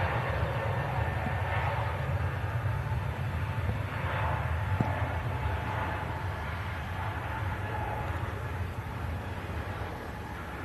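An airliner on its takeoff roll from runway 23 left at Manchester Airport, a broad steady engine roar that holds level for about ten seconds, heard from a distance with no talk.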